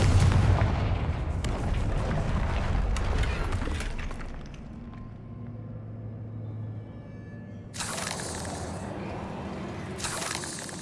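Booming fire-spell explosions from Hogwarts Legacy roll out in heavy, low rumbling blasts, fading into a quieter crackling lull before fresh bursts erupt near the end.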